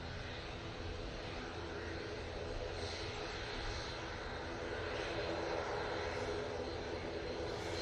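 An airliner takes off at Manchester Airport, its engines a steady, heavy roar throughout, heard from a distance with no talking.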